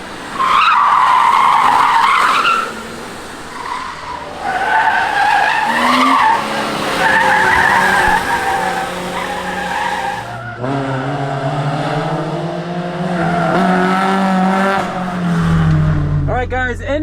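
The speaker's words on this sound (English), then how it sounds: "Good amount of wheel spin." In a racing video game, a MK4 Supra spins its tires, producing loud, continuous tire squeal over a revving engine whose pitch rises and falls for the whole stretch.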